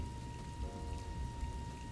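Steady rain falls on a city night, a soft, even hiss with faint drops under a low, constant hum of atmosphere.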